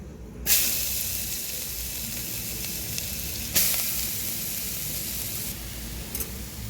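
Grated carrot drops into a hot pan where cashews were just fried, for carrot halwa, producing two sudden loud bursts of sizzling that settle into a steady hiss, with a few quieter flare-ups near the end and no talk.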